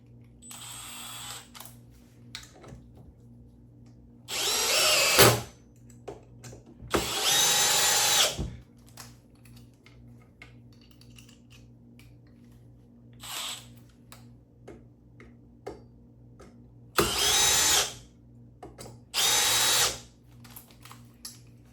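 A Milwaukee M12 drill/driver drives screws in a timed speed race, with several separate loud whirring bursts of a second or two each, split by quiet gaps, close to the microphone.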